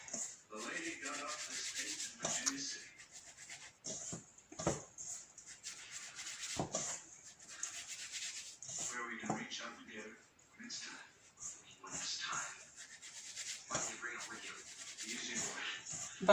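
Fingers rub butter into flour in a bowl for apple crumble, a soft repeated dry rustling and scuffing heard faintly under a person talking.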